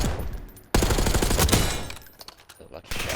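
Bursts of automatic gunfire in a first-person shooter match on the Hacienda map, rapid close shots in clusters with brief gaps, alongside some game chatter.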